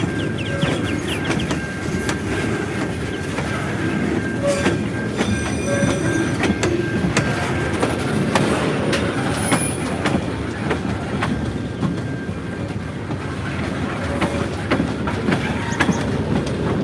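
A train rolls past for the whole stretch with steady rumble and clickety-clack of wagons, faint wheel squeal on top, while birds chirp nearby trying to compete with it.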